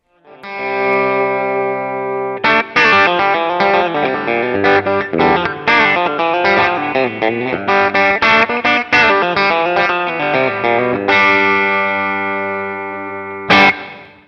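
Electric guitar played through a Boss Katana 50 MkII amp's built-in effects: distorted chords and notes with shimmering modulation and echo, sustaining between short breaks.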